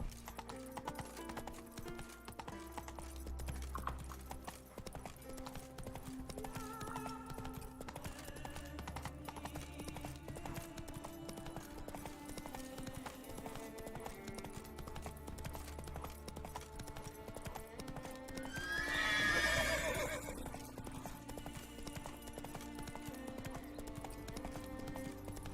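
Roach the horse galloping in The Witcher 3, fast rhythmic hoofbeats under game music, with a brief whinny or rising swell near the end.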